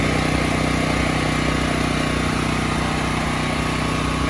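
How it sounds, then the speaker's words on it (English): A portable generator engine runs after starting, a loud, constant mechanical drone that stays even throughout. "Now that we have our generator started,"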